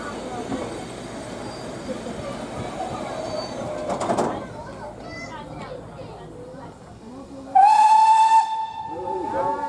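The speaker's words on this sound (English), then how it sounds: "we see the passing of the diesel service in the adjacent platform taken by the railway's resident Class 101 diesel multiple unit" A Class 101 diesel multiple unit passes at the adjacent platform of a Norfolk heritage railway station at Weybourne. Steady rumbling train noise and hiss run under voices, and a loud steam whistle blasts near the end.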